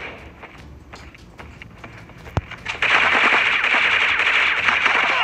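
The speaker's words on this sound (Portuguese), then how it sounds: "Ó, tem uns tiros ali." Gunfire in the mobile shooter Critical Ops, played on a Zenfone 4: scattered game sounds and footstep-like taps, then from about three seconds a dense, loud burst of rapid automatic shots that continues to the end.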